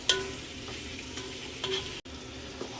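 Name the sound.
stirring sausage and grease in a frying pot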